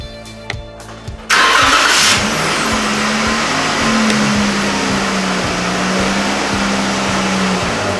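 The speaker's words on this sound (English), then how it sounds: "So I'm just going to take the Jeep down the road" A 2013 Jeep Wrangler JK fitted with a control arm kit fires up with a short cranking start, then a loud, steady engine drone carries on close by as it idles and moves off, with no one speaking.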